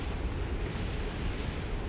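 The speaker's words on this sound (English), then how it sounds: "here comes the real explosions" Rocket explosions in the spaceflight game Kerbal Space Program, a continuous dense, loud roar and rumble of blasts with crackling bursts, sustained without a break.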